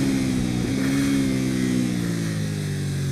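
A KTM 790 Duke motorcycle engine pulls hard on a race track, a loud steady drone with its pitch sliding slowly downward as revs fall, close and continuous with no talk.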